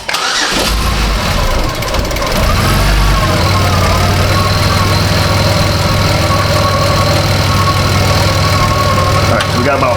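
A 2005 Chevrolet Equinox with a 3.4 engine cranks briefly, catches and settles into a steady, loud idle that runs through to the end.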